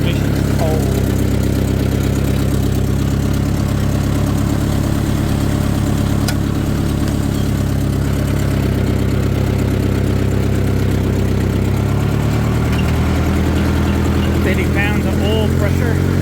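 A 1953 Ford Golden Jubilee tractor engine runs steadily with a low, throbbing chug, fairly close, and a few faint sounds of movement over it.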